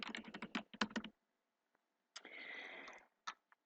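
Quick bursts of computer keyboard typing as a word is entered into a title box, a run of crisp close keystrokes, a pause, then a longer rattling stretch and a final few taps.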